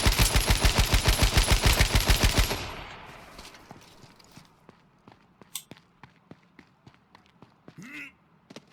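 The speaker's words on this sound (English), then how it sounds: "Pulling out the AK." Rapid automatic AK rifle fire in the battle royale game H1Z1: King of the Kill, a loud, steady burst of about a dozen evenly spaced shots that cuts off abruptly, followed by quieter scattered clicks and footsteps.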